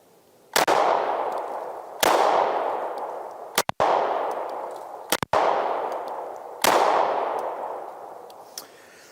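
A rare lightweight aluminum-frame Browning FN Hi Power pistol fires several sharp, loud shots at uneven intervals, each ringing out and decaying before the next, with a quick double shot in the middle.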